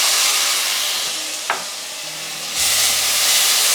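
About three cloves of garlic sizzle steadily in a hot pan while being stirred, a continuous loud frying hiss with a brief scrape partway through.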